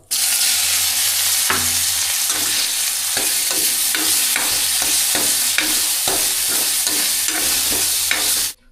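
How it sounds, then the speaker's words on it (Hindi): Tomatoes hit cumin frying in hot oil with a sustained loud sizzle, while a spoon scrapes the pan in repeated, fairly regular stirring strokes close up, and no one speaks. "अब इसमें टमाटर डाल देता हूँ।"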